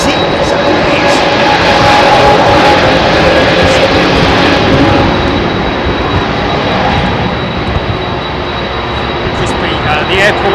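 An Airbus A320 jet departs runway 27R at London Heathrow, a loud sustained engine roar that swells and slowly eases, with people talking nearby over it.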